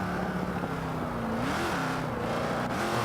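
Jaguar XKR-S engine in Forza 5 on the Catalunya track, a close, loud engine that holds its note, dips, then climbs briefly in pitch as the revs rise, with no speech.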